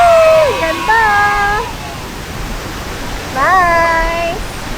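A steady broadband rush of falling water at a waterfall during a resort day tour at Villa Escudero, with high, sliding voices calling out over the constant roar in two bursts.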